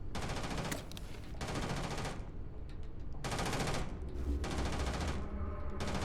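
Sustained automatic gunfire in the space game Starfield, dense bursts roaring in long stretches with brief gaps, loud and continuous with no talk.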